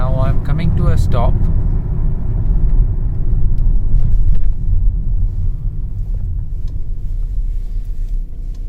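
A 2020 Kia Sportage with an engine issue rumbles steadily from inside the cabin as it slows to a stop, a brief voice rising over the engine near the start.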